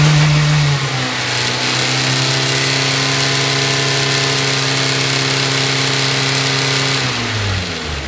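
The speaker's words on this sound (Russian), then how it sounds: "Работа двигателя на 5000 оборотах." Sustained high-rpm roar of a Mazda Z6 engine from a 2009–2013 Mazda 3 (BL), held near 5000 rpm and loud, steady, and even before easing off in the final second.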